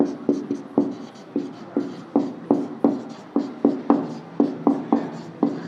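Pen or pencil scratching across paper while notes are written during a lesson, a steady series of short strokes in an uneven rhythm, close and fairly clear, with no talk over it.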